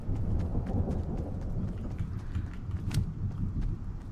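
An approaching storm in the video game Fortnite rumbles with low, continuous thunder and a rain-like hiss, steady and fairly loud throughout, with a sharp crackle near the three-second mark and no talking.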